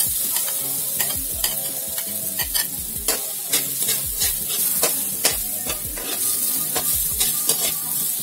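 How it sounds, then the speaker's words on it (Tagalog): Garlic frying in hot oil for pork adobo, a loud, continuous crackling sizzle broken by frequent spatula scrapes and taps in a busy, irregular rhythm. "bawang mga kasuki, mainit na yung mantika."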